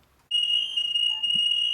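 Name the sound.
alarm going off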